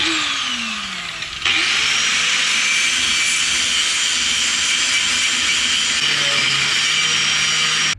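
A grinder works the tapered edge of a bushing bore in the hub of an R32 Skyline, spinning up with a sharp jump in loudness and holding a loud, steady high-pitched whine.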